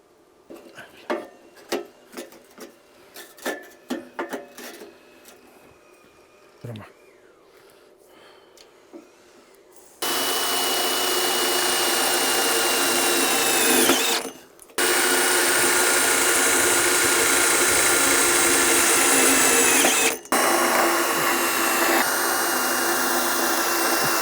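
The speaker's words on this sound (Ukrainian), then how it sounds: "прикручуєте просто перфоратором, прибурили і все." After some scattered knocks and clatter, a rotary hammer roars loudly and steadily for several seconds drilling into a wall, pauses briefly, then resumes with a grinding drilling whine.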